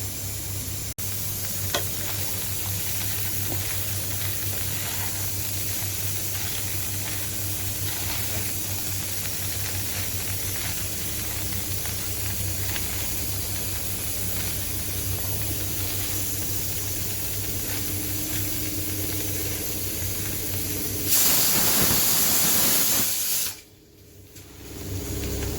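Flattened rice being stirred in a hot pan, a steady sizzling hiss with faint scraping under it, rising into a louder burst of frying near the end before dropping off abruptly.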